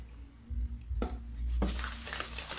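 Oil being stirred into red velvet cake batter in a bowl, with soft scraping and a couple of clinks of utensil against the dish, then a wetter, louder mixing sound, close up and without talk.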